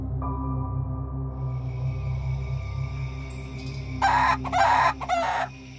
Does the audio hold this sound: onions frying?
no